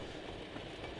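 A video game sound effect of a train rolling on rails plays as a steady, dense rumble with faint rattling, with no other sounds.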